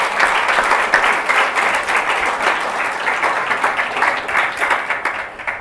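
A church congregation applauds during a Sunday service, a continuous wash of clapping from many hands that swells and dips slightly, heard close and loud with no talk over it.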